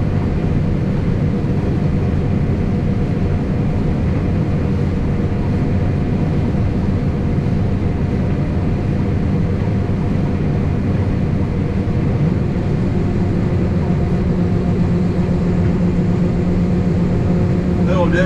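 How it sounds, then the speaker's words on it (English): A grain cart auger runs during a bean harvest, producing a loud, constant low mechanical rumble and drone that stays steady throughout, heard up close with no pauses. "push this yellow button over here on the handle and it'll turn the auger on"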